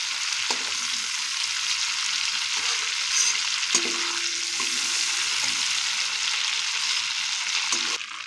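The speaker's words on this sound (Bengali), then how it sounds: "এবার এই তেলের মধ্যে আমরা 2টো তেজপাতা কুচে দিয়ে দিলাম, শুকনো লঙ্কাটাকে দিয়ে দিলাম, 5 ফোড়ন দিয়ে দিলাম আমরা 1 চামচ।" Bay leaves, dried red chilli and a spoonful of Bengali five-spice crackle in hot oil left from frying prawns, a steady close sizzle with a few light stirring clinks and scrapes, no voices.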